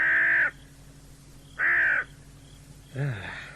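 A crow caws loudly and nearby, three harsh calls spaced about a second and a half apart, the last one rougher and lower, alone with no talk.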